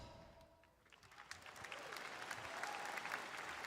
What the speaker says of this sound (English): I think 5 people clapped for that last Fantasy game